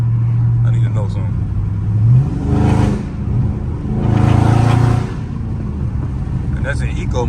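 Dodge Charger Scat Pack accelerating in eco mode on a city drive with new tires, the engine note rising and falling through two loud surges heard from inside the car, with a low idle hum before and after.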